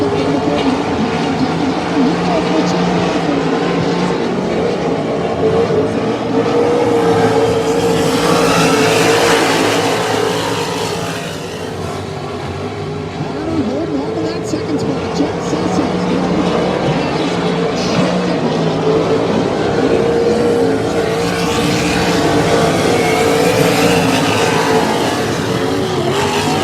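Sprint cars from the Texas Sprint Series racing at Monarch Motor Speedway, a loud, sustained roar of multiple engines that swells and fades as the pack circles the track.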